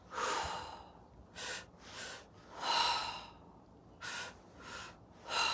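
Deep, rhythmic breaths during a breathwork exercise: a long airy inhale, then a series of shorter audible breaths and gasps, each rising and falling, close and fairly soft with no talking.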